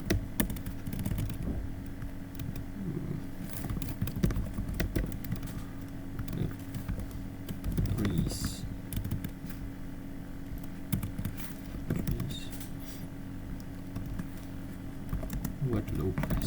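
Keystrokes on a computer keyboard, entering filter settings in Python for seismic data, form a steady stream of soft taps under continuous talking and a noisy background.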